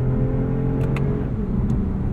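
A 2020 Toyota Avalon TRD's engine hums steadily under acceleration in sport mode, a smooth continuous drone with a few faint clicks, heard from inside the car.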